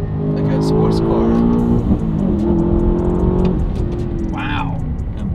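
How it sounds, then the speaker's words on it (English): A quick SUV accelerating past another SUV on the road, its engine note rising with a sporty growl; steady engine drone throughout with people talking over it inside the cabin. "Wow, this thing sounds like a sports car."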